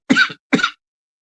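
Two sharp, close coughs from one person, evenly spaced about half a second apart, loud and dry, followed by silence.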